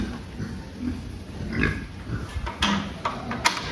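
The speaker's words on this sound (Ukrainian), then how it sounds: "І ще одна свинка наша." A pig on a farm grunts in short, low bursts close by, interspersed with shuffling and clatter of penned pigs being weighed, with no speech.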